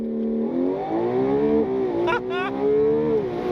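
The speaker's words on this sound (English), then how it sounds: "pin the throttle, it's gonna hold the revs, letting go" A 2026 Ferrari 12Cilindri's high-revving engine holds steady under launch control, then surges as the car launches and accelerates hard, loud and close with a brief gear-change burst.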